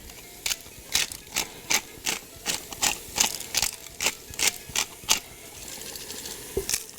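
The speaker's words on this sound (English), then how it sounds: "Season it with some pepper, freshly ground pepper," Freshly ground pepper from a pepper mill for a lamb stew, heard as about a dozen crisp ratcheting grinds in an uneven rhythm, close and fairly quiet, with no voice over them.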